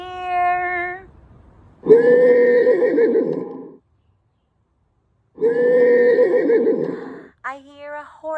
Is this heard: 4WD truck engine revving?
no